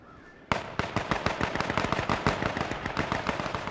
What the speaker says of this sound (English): They're shooting me, help me!